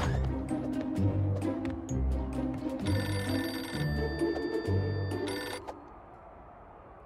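A cartoon telephone rings in repeated bursts over a busy background score, loud and close, with the ringing stopping abruptly near the end and leaving quiet.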